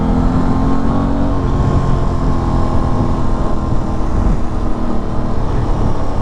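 An Aprilia RS660 motorcycle engine drones loudly and steadily while riding, with wind rush and road noise layered over the constant engine note throughout.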